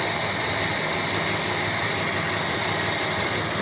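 A Volga 3110 car engine, recently replaced, runs steadily at idle, a constant close mechanical hum and rattle with no breaks.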